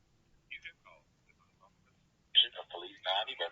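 Telephone call to a police non-emergency line: a few faint, thin bursts over a quiet line, then a louder recorded voice answering through the phone's narrow band.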